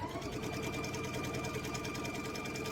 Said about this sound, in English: you probably heard me hit a little bulk in that top